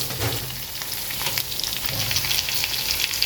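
Fish pieces, karkara (croaker) fry, sizzle steadily in hot oil in a pan, a constant dense crackle with no talking.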